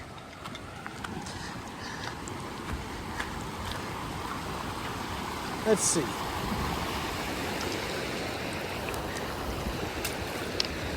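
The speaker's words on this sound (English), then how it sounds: "And another creek." Mountain creek flowing along the Pacific Crest Trail in the Sierra Nevada, a steady broadband rush of water close by, with brief talk over it.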